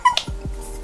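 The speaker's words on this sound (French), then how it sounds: "Ça, c'est le chat." A cat makes a quick, brief vocal sound, close by, over faint background noise.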